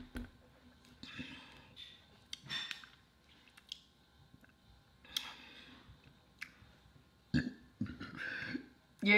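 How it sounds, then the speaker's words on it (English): Someone burps while drinking soda, a few short, close guttural belches scattered among quiet handling clicks and faint background noise. "the more of this I drink, the more I'm gonna burp"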